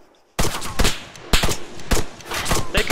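Police shootout game gunfire erupts suddenly after a quiet start, loud sharp shots in irregular bursts, close and punchy, with a little speech mixed in.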